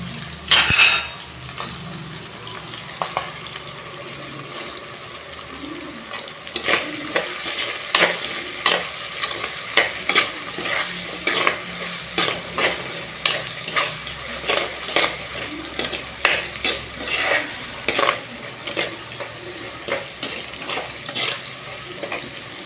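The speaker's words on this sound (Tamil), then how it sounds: "கொஞ்சம் வெங்காயம் வதங்கட்டோன்னு கொஞ்சம் மூடி போட்டு வச்சுட்டேன்" Onions sautéing in a pan with salt while a spoon stirs and clinks against it, sharp scraping taps repeating steadily over a soft background sizzle, close and moderately loud.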